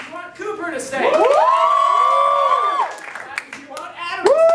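At an improv pocket show, the crowd claps and whoops for a performer to stay: a burst of clapping rises into a sustained loud shrill cheer, dips, then flares up again at the end.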